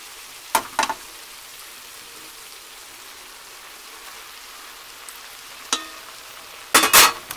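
Noodles go into a pan of frying cabbage for haluski: a soft steady sizzle runs throughout, broken by a few sharp scraping and clattering stirs, the loudest near the end.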